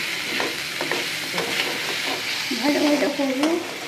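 Cumin powder and a pinch of chili powder frying in hot oil in a pan for a banana-flower rice pulao, with a steady close sizzle and a spoon scraping and stirring in repeated strokes, with no talk.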